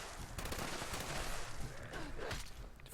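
An explosive light machine gun fires in the game Fallout 76, a dense, continuous crackling barrage of rapid shots and bursting impacts that fills the whole moment, loud and close.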